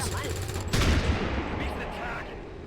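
A shotgun fires in the video game XCOM 2, one loud, sharp blast partway through, with a decaying tail over a quiet background.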